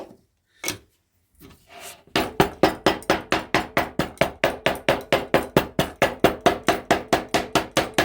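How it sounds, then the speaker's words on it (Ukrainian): A small hammer pounds homemade sausage meat in rapid, even strikes, roughly three per second, close and crisp after a few scattered knocks at the start. "Потім іншу частину, яка залишилась, яку ми не перемололи, відбиваємо так молоточком."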